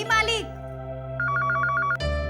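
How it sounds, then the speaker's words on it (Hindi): A telephone rings in a household, a quick electronic trill pulsing about eight times in a steady burst, preceded by a brief spoken voice and set against a low background music hum. "फोन उठाओ, घंटी बजत बा"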